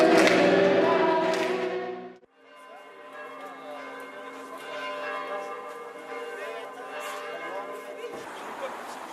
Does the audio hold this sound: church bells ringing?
yes